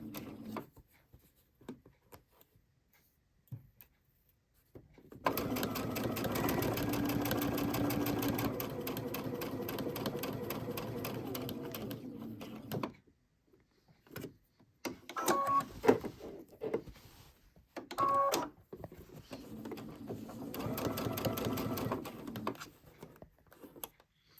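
Sewing machine stitching a dish towel along the presser foot, a fast, even mechanical rattle running for several seconds, then short starts and stops, and another steady run at the end, with quiet gaps between.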